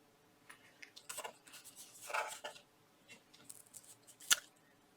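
Scissors snip through a scrap of embossed paper, a quick series of soft crisp cuts building to one sharper snip near the end, close and fairly quiet.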